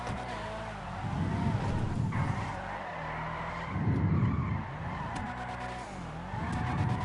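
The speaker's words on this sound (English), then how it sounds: "Let's go street drifting now" A car drifting through streets in GTA Online screeches its tires in long repeated skids, the engine droning and revving between squeals, loud and close.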